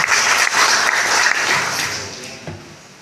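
A crowd at a Karang Taruna youth organization event in Central Java claps steadily, the applause loud at first and then gradually thinning and fading.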